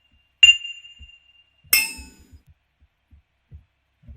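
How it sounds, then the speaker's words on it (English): Two bright ringing chimes sound in a video game when a strawberry is touched, one near the start and one midway, each fading, with soft low thumps between them. "you can hear the dings and chimes of when I touch the strawberry"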